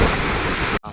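Broadband roar of water pouring at the Mallanna Sagar reservoir, loud and steady at close range, cutting off abruptly near the end.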